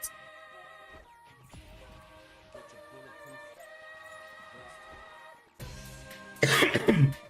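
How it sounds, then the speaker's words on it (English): A person with a lingering cough lets out a loud burst of coughing and throat clearing near the end, close to the microphone, following several seconds of quiet game music with no talk. "this cough is still not going away, man"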